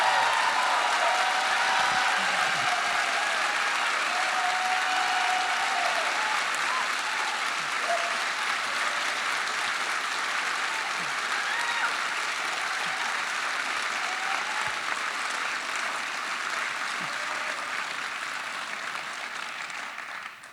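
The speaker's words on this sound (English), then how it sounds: "we just want to hear the applause from the audience" Sustained applause from a festival audience at a film Q&A, a dense steady wash of many hands clapping that continues loud for the whole stretch and tapers slightly at the end.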